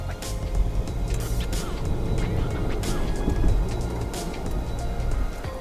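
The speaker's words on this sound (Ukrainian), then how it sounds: "І спробуємо стартувати. Газ в пол." A BYD Song L pulls away at full throttle on the road, a steady, loud wash of road and wind noise with a low rumble throughout, close inside the cabin.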